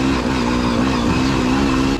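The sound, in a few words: engine of Gas 300 two-stroke enduro motorcycle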